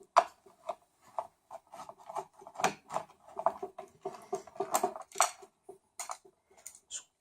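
Small screws are backed out of a Light O Rama controller board, giving quiet, scattered metallic ticks, scrapes and clinks close by. The clicks are irregular and spread over several seconds.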